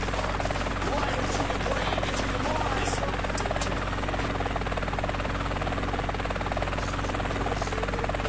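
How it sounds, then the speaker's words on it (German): Helicopter flying in the video game GTA San Andreas, a loud steady rotor drone with rhythmic blade chop held constant throughout, close and unbroken. "Helikopter fliegen ist voll gechillt."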